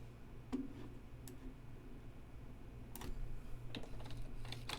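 A computer keyboard is typed on quietly and sparsely, with a few scattered sharp key clicks over a soft background hum and no talk.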